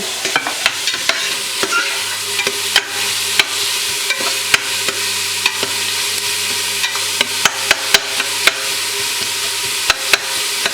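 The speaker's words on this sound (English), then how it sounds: "So this one goes nice in our pot, and we give it a nice shiny look, these onions. Yeah, we stir them around nicely." Onions sauté in a pot for tomato soup while a spoon stirs them constantly, giving quick rhythmic scraping clicks over a continuous, close, fairly loud sizzle.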